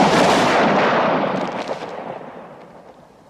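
Rifle volley from a military firing party, a single loud crack with a rolling echo that decays slowly across a few seconds, with no voices over it.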